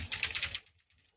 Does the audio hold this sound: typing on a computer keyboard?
yes